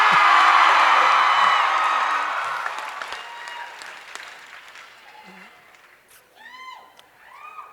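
Convention panel audience in Salt Lake City cheering, screaming and applauding in welcome, a loud dense roar that gradually fades, with scattered whoops and a few voices emerging near the end.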